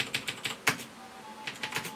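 Close clicky keystrokes on the mechanical keyboard of a Trust 486 PC, a dozen or so quick irregular taps with one sharper clack, alone without speech.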